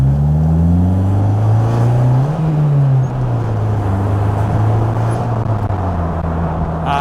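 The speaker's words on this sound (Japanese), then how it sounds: "じゃあ軽くアクセル踏んでみます" A 1997 Mitsuoka Zero-1 engine hums from inside the car, its pitch rising under light throttle, dipping and then steadying into a loud, even drone.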